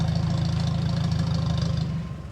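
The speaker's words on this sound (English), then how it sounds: "Next to it is our Fairbanks Morse Model N 3 horsepower hit and miss engine." A Fairbanks Morse Model N 3 horsepower hit and miss antique gas engine runs at a steady, fast low-pitched chugging pulse, close and continuous, with no talk over it.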